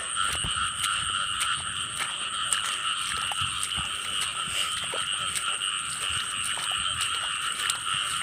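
Frogs croak densely in a flooded rice field, a loud, continuous chorus of near and far calls with sharp, irregular clicks scattered through it.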